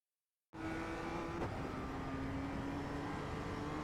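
A BMW M2 CS racing around Oulton Park in iRacing, its engine droning steadily at high revs after a sudden start, with a brief sharp tick partway through.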